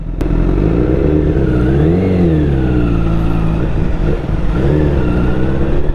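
A Honda CBR1000RR fitted with a full SC-Project exhaust system revs loud and close, its engine note swelling up and falling back twice over a constant throaty rumble.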